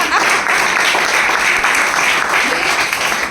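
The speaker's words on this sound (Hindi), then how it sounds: "इनके लिए जोरदार तालियां" Loud, dense applause from an event audience in Raipur, steady and close throughout with no pauses.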